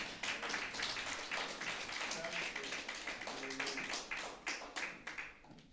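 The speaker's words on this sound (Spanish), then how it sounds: "aplauso a mi esposa, vamos a animarla" Congregation at an Assemblies of God church service clapping for the pastor's wife, a steady run of many hands across the whole stretch, with faint voices and a low musical tone underneath.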